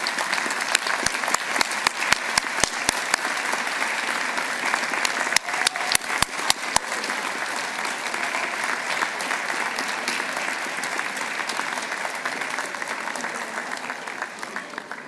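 Audience applause at a graduation ceremony, a large gathering clapping steadily for about fifteen seconds, with a few sharper individual claps standing out near the start before settling into an even, dense roar.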